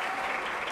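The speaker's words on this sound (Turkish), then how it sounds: "Bu harekete alkış aldı." Brief, fairly faint wash of steady applause from football spectators in Isparta as substituted player Deniz Boztepe leaves the pitch during the Isparta–Serik Belediye match.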